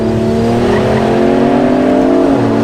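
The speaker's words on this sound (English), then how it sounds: "E43 AMG, away we go. Let's see what she can do around here." A Mercedes E43 AMG with all-wheel drive pulls hard on a race track, its engine note climbing steadily through a loud, sustained run before a quick gear change near the end.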